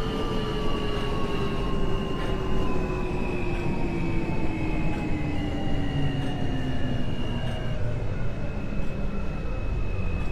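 A New York subway M train in the OpenBVE train simulator rumbles steadily along the tracks, with a continuous low roar and rising and falling electric motor whines, close and constant throughout.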